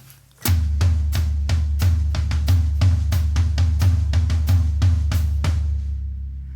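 Drum kit runs a fast driving groove, steady rapid kick and snare hits under crisp cymbal strikes, played loud and close for several seconds before ringing out.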